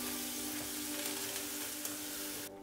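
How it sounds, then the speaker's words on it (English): Onion and mint paste sautéing in a pan for a vegetarian curry, a soft continuous sizzle with faint stirring, quiet and close, cutting off abruptly near the end. "Next goes the mint paste and saute for 10 seconds"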